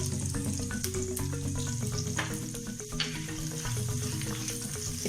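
Chopped garlic fries in oil with whole tempering spices, a dense, continuous sizzle and crackle heard up close, steady throughout with light stirring.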